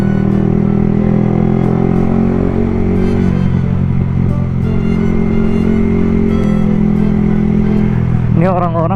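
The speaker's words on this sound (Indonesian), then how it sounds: "kenceng banget tuh motornya." A motorcycle ridden fast on a road in Pekanbaru, its engine droning loud and close throughout with a steady rumble and a brief rising whine near the end.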